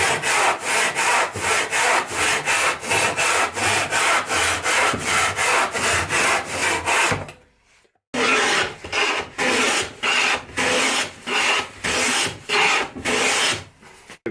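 A hand saw cuts a wooden piece for a chess board with steady, rhythmic back-and-forth strokes, loud and close. A brief pause falls midway before the strokes resume at a slightly slower pace.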